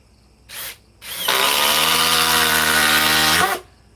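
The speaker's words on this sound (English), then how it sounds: "let's run the DeWalt 860" A DeWalt 860 cordless impact wrench spins up for about two seconds of loud, steady whirring and hammering, after two short trigger blips, then cuts off abruptly.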